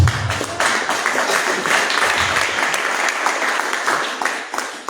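A church congregation bursts into sustained applause, a dense wash of clapping that holds strong for several seconds before easing off, with little speech.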